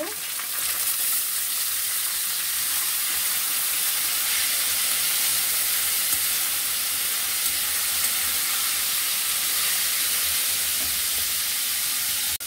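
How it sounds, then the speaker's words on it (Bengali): Bitter gourd and potatoes drop into hot oil in a wok, giving a loud, continuous sizzle and hiss that holds steady throughout, close and uninterrupted. "এখন উস্তা আর আলুগুলোকে দিয়ে দিব।"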